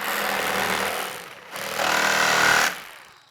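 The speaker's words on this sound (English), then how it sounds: "So I'm just going to follow that around with a jigsaw." A jigsaw rattles and buzzes as it cuts wood for a homemade Flow Hive super, two loud close bursts of a couple of seconds each with a short pause between them, then it winds down.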